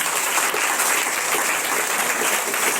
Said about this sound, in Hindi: सभी जोर से तालियां बजाएंगे